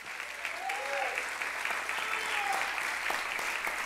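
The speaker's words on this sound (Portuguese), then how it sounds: "Você pode aplaudir ao Senhor?" Church congregation applauding during a celebration service, a sustained wash of clapping from many hands with a few voices calling out within it.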